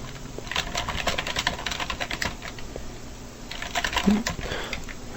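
A Linux login password typed on a computer keyboard, a fast, steady patter of close, crisp keystrokes running throughout with a brief louder clack near the end.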